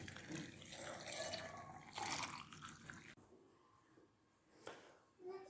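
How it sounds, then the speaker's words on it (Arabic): Hot water is poured from a tap or kettle onto washed cloves in a glass, a soft gushing splash that swells and fades in uneven bursts, with a brief drip-like plink near the end. "ومن بعد غادي نصب الماء الساخن"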